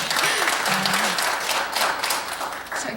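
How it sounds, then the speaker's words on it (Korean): Steady applause from a church congregation fills the whole stretch, dense and even, with a brief faint voice near the start. "설교 전에 박수 받기는 처음입니다."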